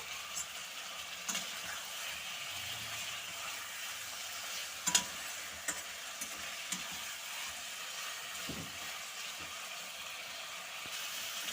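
Masala for a rohu fish curry with potato and pointed gourd fries in a pan with a soft, steady sizzle, broken by a few sparse spatula taps and scrapes, fairly quiet and close, without talking.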